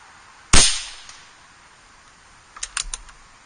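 A single sharp crack from an Air Venturi Avenger .25 air rifle is fired close by and decays quickly. A few faint clicks of handling follow a couple of seconds later.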